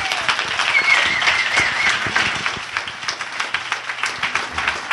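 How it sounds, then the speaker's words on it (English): An audience claps for Peter Boghossian at a street epistemology Q&A, a moderate round of applause with distinct individual claps that thins out and tapers by the end, no talking. "One more big round of applause for Peter"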